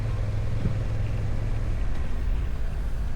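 Steady engine rumble on a motorcycle ridden through busy multi-lane Glasgow traffic on a Saturday evening, a continuous low drone with road and wind noise and no talking.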